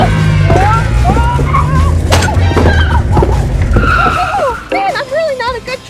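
A truck skids and slides, with loud tire squeals and screeching, scrubbing bursts over a rumbling engine, all up close and continuous before tapering off at the end.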